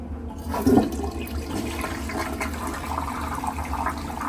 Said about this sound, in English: It flushes acceptably, I suppose.